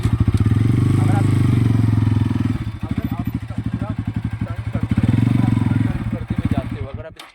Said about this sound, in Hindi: मैंने बाइक स्टार्ट की